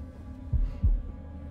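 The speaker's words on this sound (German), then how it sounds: "Im Rhythmus des Herzschlages" Two deep, muffled heartbeat thumps in quick succession over a low hum, from the horror video game The Devil In Me, close and heavy with no talking.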